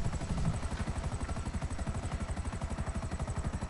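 A video game helicopter's rotor beats out a steady, rapid chopping rhythm from start to finish, with a low thudding pulse that stays fairly loud and even.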